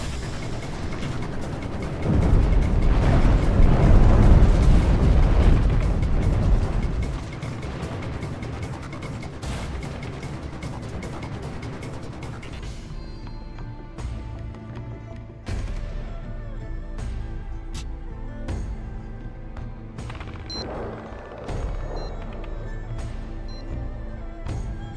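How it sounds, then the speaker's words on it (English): Artillery strike explosions in the PS2 video game Battlefield 2: Modern Combat, a heavy rumbling barrage that swells loudly early on, then scattered sharp blasts and cracks continuing over a dense battle background. "Artillery strike is initiated."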